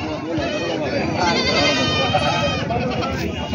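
Goats bleat repeatedly at a busy goat market, the calls rising over constant crowd chatter and bargaining voices close by.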